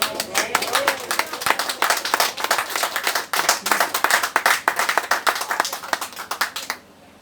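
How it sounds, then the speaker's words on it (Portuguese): A congregation at a church conference claps in praise, brisk rhythmic hand claps close and loud for about seven seconds, then stopping abruptly. "As palmas louvam ao Senhor."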